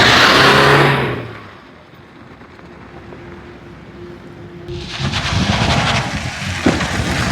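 A Tata car at a used car dealership makes a loud burst of engine noise, drops to a low steady idle hum, then swells into a rough, louder rev in the final seconds.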